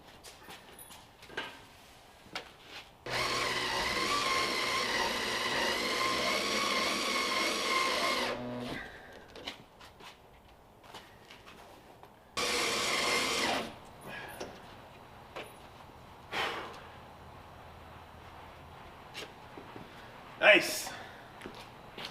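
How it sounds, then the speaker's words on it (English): A power drill drives self-tapping hex head screws into a barn door window, with two long steady whirring runs of several seconds each and scattered clicks and handling knocks between them. "Using some self-tapping hex head screws here."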